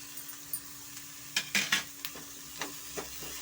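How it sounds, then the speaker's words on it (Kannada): Tomato frying in a pan for a vegetable masala bread roast, with a steady sizzle broken by sharp scraping stirs and clinks of a utensil against the pan, several quick strokes close by and no talking. "ಅದನ್ನು ಸ್ವಲ್ಪ ನಾವು ಫ್ರೈ ಮಾಡ್ಕೊಳ್ಳೋಣ"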